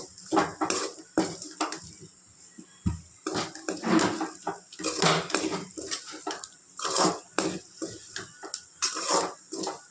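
Potato masala being stirred in a pan while cooking a potato gravy fry, with repeated close scraping and clinking of a utensil against the pan in an irregular rhythm.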